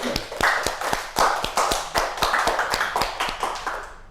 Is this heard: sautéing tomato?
no